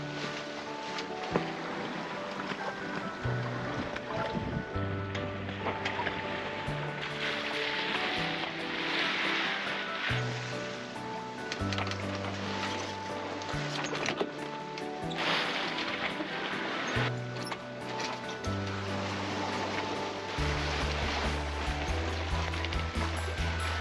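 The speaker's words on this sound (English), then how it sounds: "Right now we got hit by a squall" A squall hits a sailboat at sea in harsh Norwegian weather: loud rushing wind and churning water roar steadily, with a tonal drone underneath and no speech.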